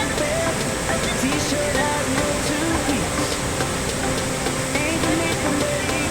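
Constant roar of Taytay Falls in Majayjay, Laguna, pouring into a pool where people swim, with faint voices mixed into the unbroken rush of water.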